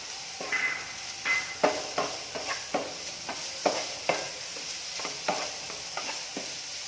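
A banana, sugar and grated coconut filling is stirred in a pan, with soft rhythmic scraping strokes and a faint sizzle underneath, quiet and close.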